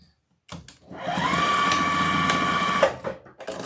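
A sewing machine stitches overlapping fabric loops for a Halloween wreath, running in one steady whirring burst of about two seconds, close and clear, then stopping.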